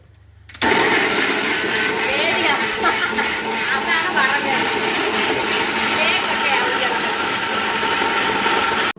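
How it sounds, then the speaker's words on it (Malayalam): An electric mixer grinder in a home kitchen kicks on abruptly and runs steadily with a loud, harsh whirring roar for the whole stretch, while a voice speaks briefly over the noise. "ഇത് ഭയങ്കര അതിഭീകരമായ സൗണ്ടാണ് ഈ മിക്സിയുടെ സൗണ്ട്."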